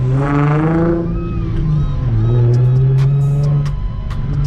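An Infiniti G35 engine revs loudly close by, pitch climbing, dipping, then rising again into a sustained roar with a deep rumbling exhaust.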